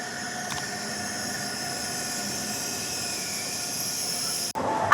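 Bullet train arriving at Kunming railway station, a steady loud whooshing rumble with a high whine that holds for several seconds before a sudden break and a brief louder burst at the end.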